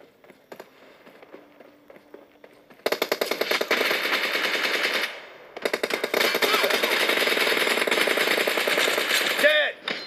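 Gunfire in the mobile shooter PUBG Mobile during a team deathmatch: a quiet start, then long bursts of rapid automatic fire, loud and close, with a short pause in the middle.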